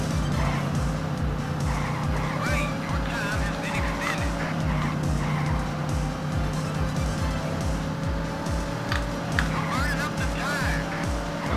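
A car in the Sega Saturn racing game Daytona USA Champion Circuit Edition slides sideways through a tight corner, its tires squealing over a loud, steady engine drone that runs for the whole stretch.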